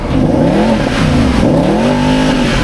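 A Mercedes SLS AMG engine revs hard in Sport Plus mode, a loud, close, deep growl whose pitch climbs and falls over a couple of seconds with no talking over it.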